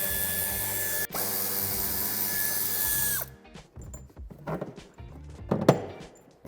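A power tool whirs steadily for about three seconds while removing Torx screws from the wheel arch of a 2021 Peugeot 308 III five-door, then stops abruptly, followed by scattered knocks and clunks of parts being handled nearby.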